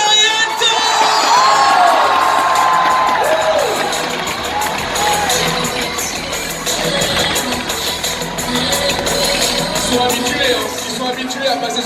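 A large crowd at the Lyon Esport 2019 esports event cheers, whoops and yells continuously and loudly for the whole stretch, a dense roar with shrill individual shouts rising above it.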